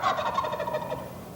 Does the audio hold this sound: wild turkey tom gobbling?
yes